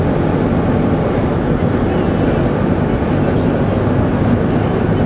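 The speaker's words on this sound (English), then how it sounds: "I've never known a train could go that fast" A CN freight train races past at high speed on the Edson Subdivision between Gainford and Edson. It makes a loud, continuous, broadband rumble and roar that holds steady throughout.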